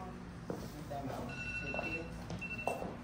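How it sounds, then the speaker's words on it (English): Mobile phone ringing indoors, a faint repeating electronic tone pattern sounding under chatter and household movement, with people talking throughout. "that's my phone"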